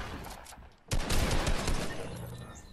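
Gunfire in the video game Fortnite erupts as a loud, dense burst of rapid shots after a brief quieter lead-in, continuing steadily to the end.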